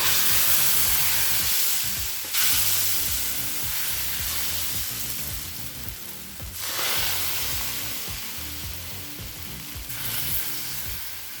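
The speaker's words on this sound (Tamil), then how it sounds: "இப்போ தோசைக்கல் நல்லா சூடாகிடுச்சுங்க. நம்ம தோசை ஊற்ற ஆரம்பிச்சிடலாம்." Ragi rava dosa batter poured onto a hot griddle, hissing and sizzling loudly up close, with bursts of sharper spitting at a few points as more batter or stirring hits the hot surface; no talking.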